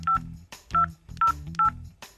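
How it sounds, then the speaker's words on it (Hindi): A telephone number is dialed on a keypad, four crisp touch-tone beeps in a quick uneven rhythm, loud and close, with faint background sound between the tones. "इनको मिलाओ फोन।"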